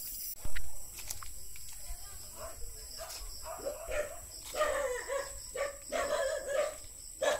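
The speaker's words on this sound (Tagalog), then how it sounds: "Ingay ng aso." Several dogs bark in bursts at a moderate distance, with crickets chirping steadily in the background and a faint voice now and then.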